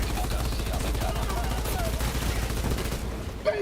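Automatic gunfire in a video game rattles in fast repeated bursts over constant loud game noise, with a brief sharper sound near the end.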